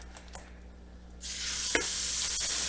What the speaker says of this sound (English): then we're going to add 3 pounds of ground turkey